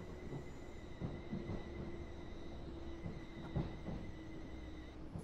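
A Desiro electric train on the Brighton Mainline in Train Simulator 2018, a quiet steady hum with a high whine and faint rolling clatter from the wheels, distant and even throughout.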